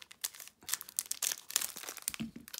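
Plastic wrapper of a baseball card rack pack crinkling and tearing open up close, a series of sharp irregular crackles and rips with brief pauses, no talking.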